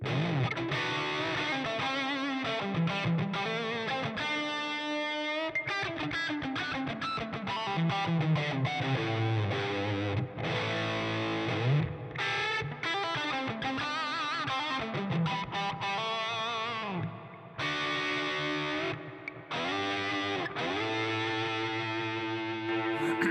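A heavily distorted electric guitar through a Siren Pedals Airavata Distortion, cranked, plays a continuous, saturated riff with sustained fuzzy notes and brief gaps, loud and close.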